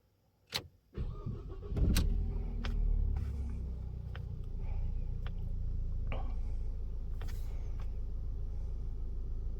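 A car engine cranks briefly after a few clicks, then catches and settles into a steady low idle rumble, heard close in a garage.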